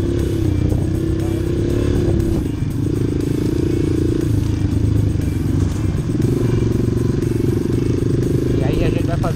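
A Honda CRF 230 dirt bike ridden off-road on a training course through grass and obstacles, its engine loud, close and continuous with revving and shifting pitch, while someone talks over it throughout.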